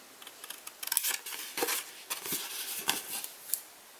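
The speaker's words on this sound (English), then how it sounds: "you're going to cut every score line here up to the first score line going up" Scissors snip along score lines in paper while making a coin envelope, a quick series of short crisp cuts and rustles, close and fairly quiet, irregularly spaced.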